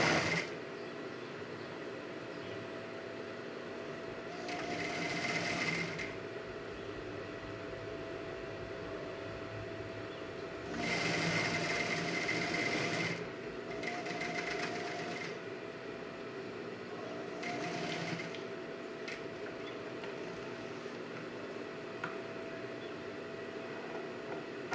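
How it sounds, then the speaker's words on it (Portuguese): A sewing machine stitches a diagonal seam across a rug made of fabric strips, running in several whirring bursts of a few seconds each over a steady background hum. "E vamos passar uma costura para firmar ela aqui."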